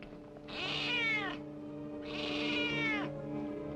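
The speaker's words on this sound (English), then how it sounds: "That cat gives me the willies." Two drawn-out cat meows in a radio drama, each rising then falling over about a second, loud and close with a faint steady hum underneath and no talk.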